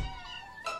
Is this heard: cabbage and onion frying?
no